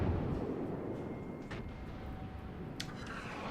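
Nurnberg cruiser guns fire armor-piercing shells in World of Warships: deep rumbling booms over a low battle drone, with two sharper reports cracking out partway through.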